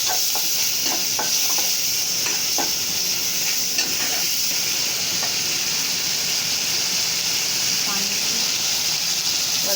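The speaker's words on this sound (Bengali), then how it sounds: "জিরা, ধনিয়া আর হচ্ছে রসুন বাটাটা দিয়ে দিলাম" Cumin, coriander and garlic paste frying in a pan of hot oil, a steady close sizzle and hiss with occasional stirring scrapes, a voice faintly present at times.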